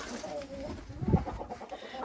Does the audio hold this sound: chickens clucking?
yes